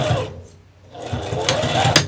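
A sewing machine stitching a Halloween table runner made from fat quarters, with short bursts of rapid close needle clatter that pause, then run again.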